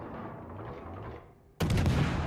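Naval gunfire in World of Warships, a sudden loud booming salvo breaking in after a low rumbling engine and ambient background, continuing as a sustained heavy blast.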